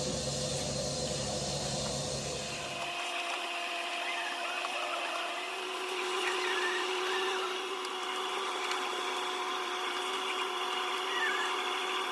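A corded vacuum cleaner from Screwfix runs steadily with a whining motor hum and airy hiss. The low rumble drops away a few seconds in, leaving a thinner, continuous drone throughout.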